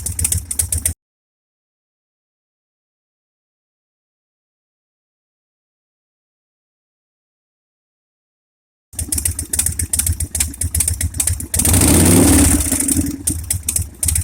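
A salvaged Harley-Davidson Sportster engine idles outdoors at night with a close, loping throaty rumble, cut by a long silent gap, then resumes with a brief louder rev.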